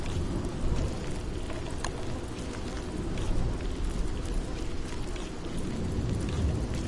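Steady rain falls in the video game Don't Starve Shipwrecked, a constant soft hiss of drops that stays even and fairly quiet throughout, with no voice on top.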